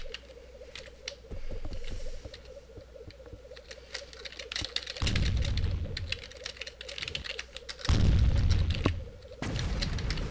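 Computer keyboard typing in rapid bursts during a game of Tribes, mixed with loud in-game booms and explosions that swell at intervals, with no talk.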